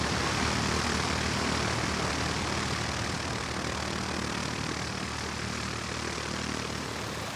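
A propeller airplane roars steadily and loudly throughout, its engine drone constant as the aircraft comes in to land at Puerto Santa Cruz, Argentina.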